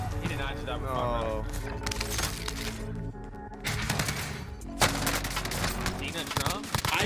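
Video game gunfire crackles in rapid automatic bursts and single shots, loud and close, with voices talking over parts of it.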